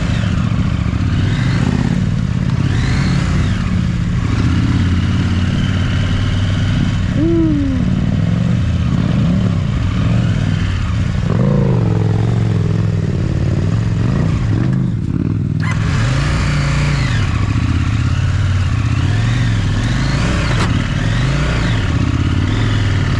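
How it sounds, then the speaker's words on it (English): A heavy 500-pound adventure motorcycle rock hopping through desert terrain, engine revving in repeated bursts with clattering over rocks, loud and close throughout. "Just some casual 500-pound bike rock hopping."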